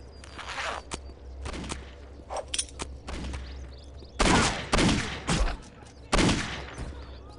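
Gunfire from an armed man in the video game Postal 2: a run of sharp shots, several heavy and loud blasts near the end, mixed with footsteps and game sounds over a low background hum.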